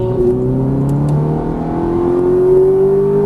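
A Ferrari F430 engine accelerating hard at full throttle, its steady rising drone and harmonics climbing in pitch over a few seconds, loud and close.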